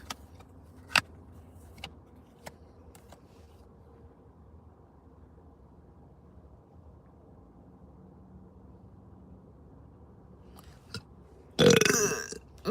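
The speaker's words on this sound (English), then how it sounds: "Excuse me, I keep burping." One loud, close burp bursts out near the end after a long, quiet stretch broken only by a few sharp clicks and taps.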